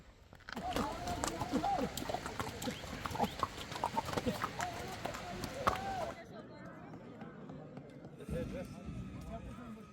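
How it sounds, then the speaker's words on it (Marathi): A calm horse walking on a snowy trail in Gulmarg, Kashmir, hooves thudding and clopping in an uneven rhythm under outdoor noise, with voices over the first part before it quiets. "माझा घोडा पण शांत आहे, मस्त चाललेला आहे."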